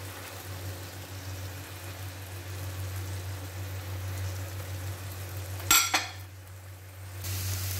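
A homemade beef burger patty sizzles steadily in a pan under a lid, with a sharp clatter and brief scrape near the end as it is pressed flat, then the frying hiss resumes.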